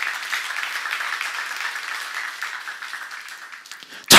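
A church congregation applauding during a sermon with steady, dense clapping for several seconds, ending in a sudden loud burst of sound up close.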